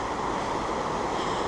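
River Fillion on the West Highland Way near Kinlochleven, a broad Highland river rushing as a steady, dense wash of flowing water, loud and close, with no voices.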